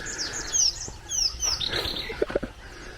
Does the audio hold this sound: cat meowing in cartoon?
no